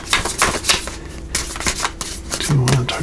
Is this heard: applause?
no